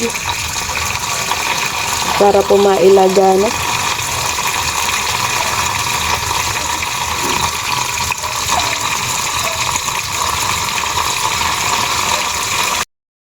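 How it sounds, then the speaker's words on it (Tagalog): Steady water running and splashing into a pot, a continuous broadband wash with a brief voice speaking near the start. "lagyan na po natin ng tubig"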